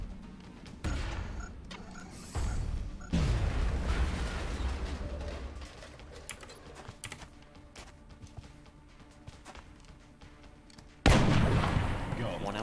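A grenade explodes in XCOM: Long War, a heavy booming blast with a long rumbling tail, set among other sharp in-game bangs, clicky interface ticks and a final loud burst near the end.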